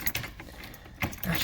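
A set of car keys for a Chevelle hot rod jangles briefly up close in a short, loose metallic rattle.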